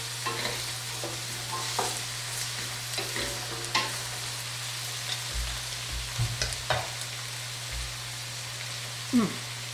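Leeks for a celeriac soup sizzle steadily in a pan at moderate volume, with occasional stirring scrapes and clinks over a low background hum.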